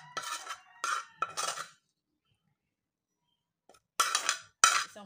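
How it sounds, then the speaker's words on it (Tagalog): Cooked palya being transferred onto a plate for breakfast, a few bright scraping clinks of utensil against dishware in two bursts separated by silence, close and clear. "isalin na natin itong ating nalutong palya sa ating plato"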